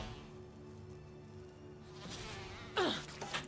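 Insect buzzing from a bee swarm in the Resident Evil 1 Remake video game, a steady droning hum that swells and turns harsher near the end of the short stretch.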